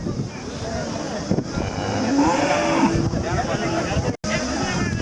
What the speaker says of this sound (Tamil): இந்த ஒரு மாடு மட்டும் எங்கடா போகுது?